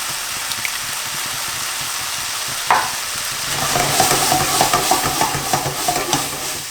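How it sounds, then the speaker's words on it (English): Tinned chopped tomatoes go into a chicken curry pan, a soft sizzle swelling into louder frying with rhythmic stirring scrapes, close up and with no talk. "then open the tin with chopped tomatoes and add half"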